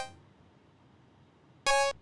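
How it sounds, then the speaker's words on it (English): A single short synthesizer pluck built from a basic saw wave, a bright harmonic tone struck once near the end after quiet, played alone for a hard hip hop beat. "So again, basic saw wave."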